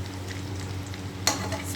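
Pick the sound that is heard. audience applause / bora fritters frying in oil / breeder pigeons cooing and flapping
bora fritters frying in oil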